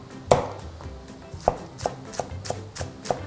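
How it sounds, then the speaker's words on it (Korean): A kitchen knife chops green onion on a cutting board for ramen, giving about six crisp, close taps at an uneven, unhurried pace, the first one loudest. "그 다음에 파 좀 썰어주시고"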